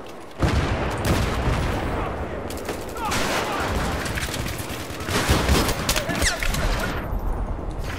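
Dense gunfire from the Battlefield 3 video game: rapid overlapping bursts and booming shots crackle continuously and loudly, close and relentless throughout.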